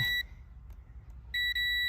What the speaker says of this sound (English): if it's beeping, the filament inside the fuse is not broken